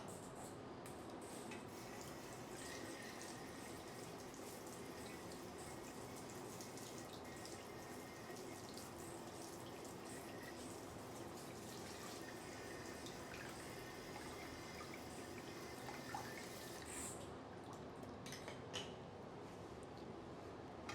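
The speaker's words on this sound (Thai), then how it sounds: "ตัวนี้ก็สามารถใช้สายชำระถ้าเกิดสมมติลูกค้ามีนะครับ" A bidet spray hose runs steadily as it rinses a part of an Airdog air purifier, making a constant, fairly quiet hiss of splashing water for about twenty seconds.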